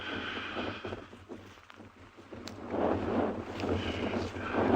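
Cold wind at Tswalu during a sunrise safari, buffeting the microphone as a steady rushing roar with low rumbling gusts that swell louder toward the end; no voices.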